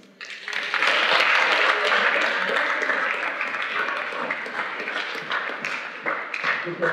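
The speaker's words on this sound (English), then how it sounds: "let's give them a clap" An audience at a Bethel College convocation bursts into sustained applause for the professional on-call team, a dense wash of many hands clapping that swells quickly and holds steady for several seconds.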